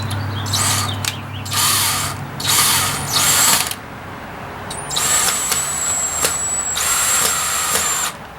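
A power drill drives screws down into a wooden stump while a push mower deck is held in place, giving bursts of close, whirring ratcheting mechanism noise separated by short pauses, with no talking.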